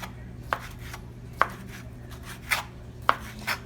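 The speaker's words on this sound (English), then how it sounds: "we're gonna go ahead and start slicing the sausage" A sharp knife slices through sausage on a cutting board, five distinct crisp chops at uneven intervals against a quiet, steady hum.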